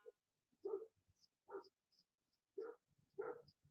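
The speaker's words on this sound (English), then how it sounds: "Oops, Sammy's barking." A dog barks four times in short, evenly spaced woofs, close and fairly clear in an otherwise quiet indoor setting, with faint high chirps between the barks.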